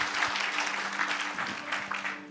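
A church congregation applauds during an online worship service, a lively burst of many hands clapping with a faint steady hum underneath, fading slightly toward the end.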